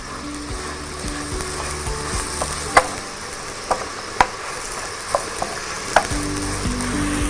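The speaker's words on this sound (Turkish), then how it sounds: "Biz buna degleze diyoruz. Degleze oldu şu an." A frying pan sizzles steadily and loudly after deglazing, with a few sharp utensil clacks against the pan scattered through the continuous hiss.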